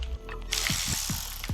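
A 10mm socket on a ratchet pops a clip free on a Nissan 370Z engine during a teardown. It starts with a muffled clack, then a steady broadband hiss with several quick ratchet clicks spaced close up.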